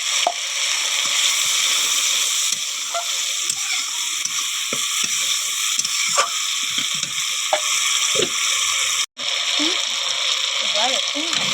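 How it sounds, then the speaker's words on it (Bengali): Kashmiri chhena curry sizzles in a pan after a splash of water, with a steady frying hiss and occasional spoon scrapes and clinks while someone talks over it. "এবার অল্প একটু জল দিয়ে ভালোভাবে কষিয়ে নেব।"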